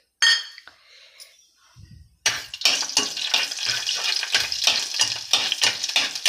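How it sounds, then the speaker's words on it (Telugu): Whole spices drop into hot oil and ghee in a pan for tomato rice: a brief clink, a lull, then a loud, close, steady sizzle and crackle with stirring scrapes of a utensil. "ఇప్పుడు ఈ మసాలా దినుసులు వేసేసుకోవాలి."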